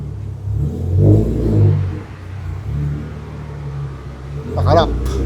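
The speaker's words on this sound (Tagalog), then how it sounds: "Tapos, paandarin na natin yung 190E. Bago muffler. Not too rowdy." A 1987 Mercedes-Benz 190E fitted with a new in-house, unbranded muffler revs in a few swells, a moderate rumbling exhaust note that rises and falls, with a voice speaking over it.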